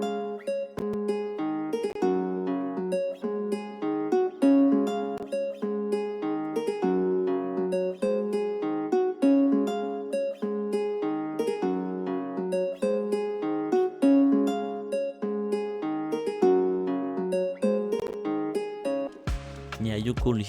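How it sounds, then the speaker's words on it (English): Nylon-string fingerpicked acoustic guitar preset from the Hypersonic plugin in FL Studio plays a looping afrobeat melody of plucked notes, clear and upfront, alone without talk, cutting off abruptly near the end. "From acoustic guitars, then you will see it. It's a nylon finger acoustic, right?"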